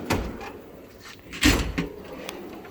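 A drawer of metric tools in a mechanic's toolbox slides open with a rolling rattle and a solid knock, followed by a few smaller clanks of metal, close by with no speech.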